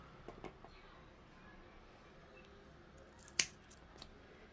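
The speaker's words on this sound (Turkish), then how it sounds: "Onu da makasla keseyim" A sharp, crisp snip of scissors cutting through a coleus stem, a single close click against quiet room tone with faint handling sounds.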